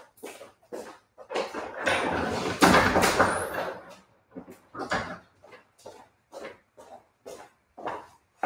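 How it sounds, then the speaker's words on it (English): A window and a door are closed indoors: a sustained sliding rush of a few seconds is followed by a series of short, soft thumps and knocks spaced out at close range. "Let me just close the window,"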